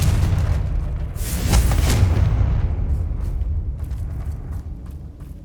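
A Confringo explosive spell blasts in Hogwarts Legacy, giving a loud, deep booming burst with a rumbling tail that fades over several seconds, followed by faint scattered clicks.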